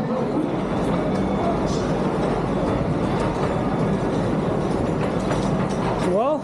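Rumbling, clattering rail noise fills New Delhi railway station continuously, like a train rolling nearby, with a brief squeal or horn-like tone at the end.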